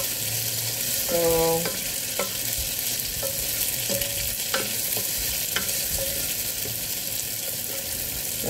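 String beans and tofu sauté in a hot pan, a steady close sizzle with occasional stirring clinks of a utensil and a brief spoken word.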